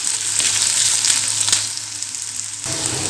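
Ginger and garlic sauté in hot oil in a pan, a continuous crackling sizzle with occasional stirring scrapes, loud and close, no talk.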